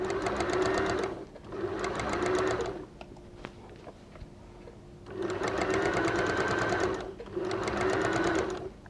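A sewing machine stitches fabric for a scrunchie in three fast, whirring bursts, with a short quiet pause between the first two runs and a longer one before the third, all heard up close.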